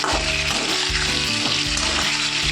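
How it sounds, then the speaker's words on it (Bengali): Pointed gourd frying in oil gives a steady, loud sizzle with a faint repeating low thump underneath, no voices. "পটলগুলো প্রায় ভাজা হয়েই গেছে"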